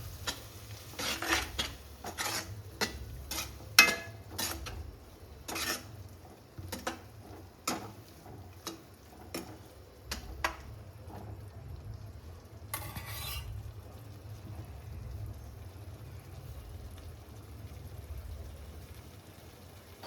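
A spoon scrapes and clinks against a metal pot in a quick irregular rhythm while spice mix is stirred into water, then the stirring fades into a soft, steady low hum.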